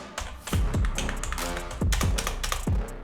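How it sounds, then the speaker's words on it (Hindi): Keys on a four-year-old budget membrane gaming keyboard clatter in quick bursts of typing, several loud clustered presses with short pauses between, close and with no talking. "मेम्ब्रेन कीबोर्ड है ये।"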